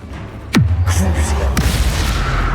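A Bombarda spell goes off in Hogwarts Legacy with a sharp whooshing cast dropping into a deep boom that rumbles on, followed by a second crack.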